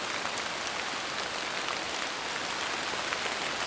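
Steady pouring rain on a woodland shelter in near-freezing weather, a dense continuous hiss of drops with scattered sharper patters, even and unbroken throughout with no voices.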